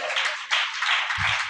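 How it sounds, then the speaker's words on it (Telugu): An audience at an all-night prayer worship service claps steadily, a dense, continuous wash of many hands with no break, close and fairly loud. "కొట్టండి చప్పట్లో."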